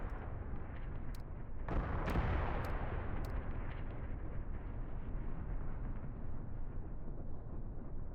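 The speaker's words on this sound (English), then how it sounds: "with the help of these mortars, maybe we can get it done" Mortar fire in the WWII strategy game Mius Front: one heavy close blast followed by a few sharp distant cracks, over a steady low rumble of battle.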